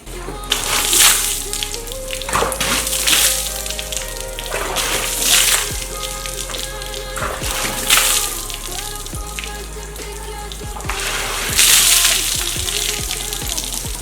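Water splashes and pours steadily onto a motorbike top box in repeated bursts, with dripping and trickling between the heavier gushes.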